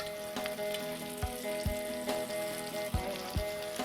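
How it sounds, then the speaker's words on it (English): Taro root pieces fry in hot oil in a pan, giving a steady close sizzle with scattered pops and crackles throughout. "Fry this till they become nice and golden brown on both sides."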